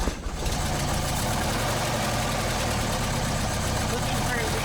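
Speedster engine running at a steady idle, a continuous close mechanical drone with a faint knocking texture and no break.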